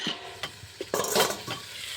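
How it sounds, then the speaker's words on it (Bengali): Food frying in a pan during a small outdoor picnic, a soft sizzle broken by scraping stirs and clinks of a utensil against the pan, close by with no talking. "এই দেখো আমাদের ভাজা হচ্ছে"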